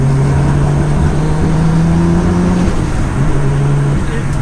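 Nissan Skyline R33 with a 700 bhp engine, revving in second gear around 2,500 RPM: a loud, steady low engine drone with a sustained hum that shifts pitch slightly, heard close up.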